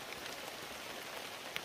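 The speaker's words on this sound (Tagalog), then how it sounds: "bali umuulan na" Steady rain falls at night outdoors during a hunt for birds, a constant close hiss of drops on surfaces with a few louder individual splats and no voices.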